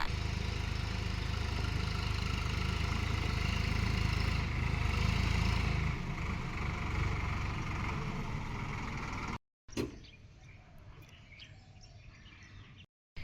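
A tractor loaded with river sand idles with a steady, close mid-pitched rumble while birds chirp faintly around it. The engine noise cuts off abruptly near the end, leaving quieter outdoor sounds.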